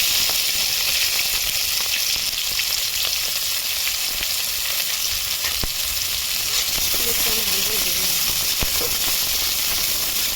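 Panch phoron spices sizzle steadily in hot oil with a bay leaf, a continuous close frying hiss with faint stirring scrapes throughout.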